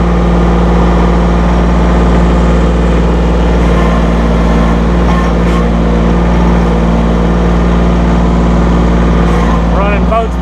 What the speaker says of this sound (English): We'll run the RPMs up, take them up to PTO speed.